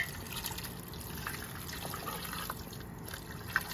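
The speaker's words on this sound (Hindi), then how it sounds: "अब पानी देखें हम कितना डालेंगे इसमें" Quiet, steady trickle of water being poured into a pressure cooker for mutton paya, a soft continuous liquid flow with faint clinks.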